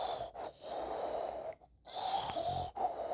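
A voice imitates heavy, wheezing breathing, a run of loud raspy inhales and exhales with short snorting pauses between them, close and alone.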